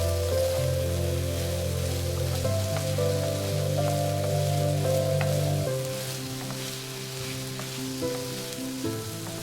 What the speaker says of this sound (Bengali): এতে আমি 1 টিস্পুন জিরে দিয়ে দিচ্ছি আর একটা তেজপাতা অ্যাড করে দিচ্ছি।